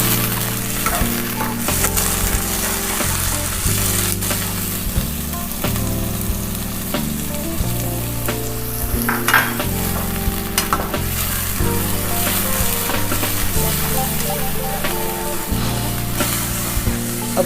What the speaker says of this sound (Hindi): अब इसके साथ लहसुन अदरक के पेस्ट को फ्राई करेंगे।